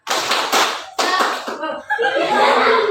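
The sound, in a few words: class doing the 'tepuk semangat' clapping chant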